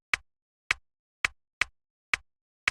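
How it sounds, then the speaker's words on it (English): A muted, hi-hat-like percussive hit in a minimal lo-fi beat made in Logic Pro X, repeating six times as short, crisp, dry ticks in a swung offbeat pattern, isolated with silence between. "next I've got this muted hi-hat"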